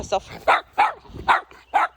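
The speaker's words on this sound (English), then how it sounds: "So when this dog is barking aggressively" A German Shepherd barks aggressively in five sharp, evenly spaced barks, close and fairly loud, with short silences between them.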